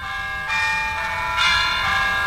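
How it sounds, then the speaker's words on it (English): A classic bell tower alarm tone rings out in two clear, resonant chimes, one after another, each leaving a long ringing decay. "Which is the old classic, bell tower."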